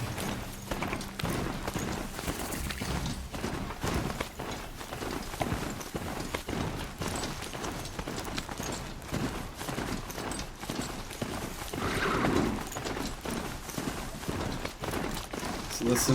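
A mount in Horizon Zero Dawn clip-clops along in a continuous, rhythmic run of hoofbeats under game sounds, with someone talking now and then.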